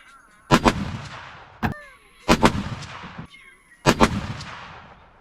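Three loud rifle shots firing Hornady Outfitter ammunition at an outdoor range, each a sharp crack with a rolling echo, spaced roughly a second and a half apart, with a fainter knock between the first two.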